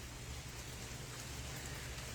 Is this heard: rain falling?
yes